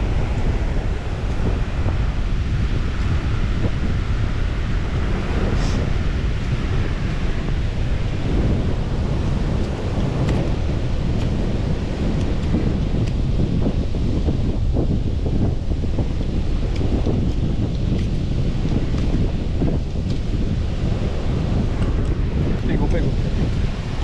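Wind buffets the microphone outdoors at a campfire site, a steady loud broadband roar with gusty rumble throughout, no talking.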